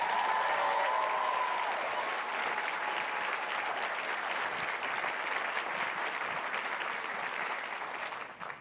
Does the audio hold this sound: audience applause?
yes